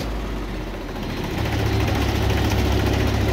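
Mahindra 295 Turbo and 275 TU tractor engines pulling a loaded trolley, a loud, close, low diesel rumble that swells and holds steady under load.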